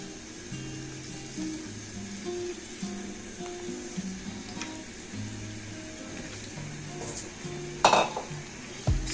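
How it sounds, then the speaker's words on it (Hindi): Chicken pieces frying in oil in a karahi for a street-style Peshawari charsi chicken karahi, a steady low sizzle with scattered metal clinks and scrapes of a utensil against the pan, one sharper clank near the end. "चिकन को हमें इसमें बहुत अच्छे से फ्राई कर लेना है।"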